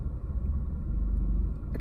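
A manual car engine judders near stalling at the clutch biting point: a steady, deep, shaking rumble that continues throughout from inside the cabin.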